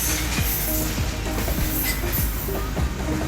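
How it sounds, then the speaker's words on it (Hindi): A long freight train rolls past near Liaquatpur station in rural Pakistan, giving a loud, steady rumble with rhythmic wheel clacks over the rail joints, continuous and close. "ये ट्रेन लियाकतपुर स्टेशन की तरफ जा रही है।"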